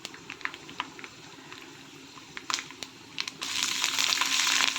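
Sliced green chilies fry in hot oil for lemon rice, a quiet crackle with scattered taps building into a loud, steady sizzle near the end.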